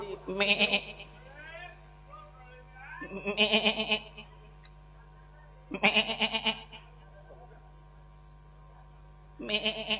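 A folk theatre performer imitates a goat bleating, voicing four separate nasal, quavering bleats spaced a few seconds apart over a faint mains hum.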